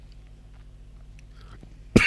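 A person gives a single short, sharp cough near the end, standing out abruptly against a quiet, low background.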